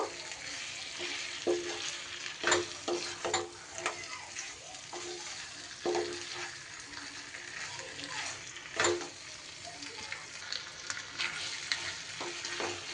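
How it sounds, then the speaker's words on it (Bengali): Chicken is mixed with spices in a frying pan, a steady close sizzle broken by frequent scraping and tapping strokes of a spatula in an uneven rhythm. "চিকেনটা অ্যাড করে আমি চিকেনকে ভালো করে মশলার সাথে মিশিয়ে নেব"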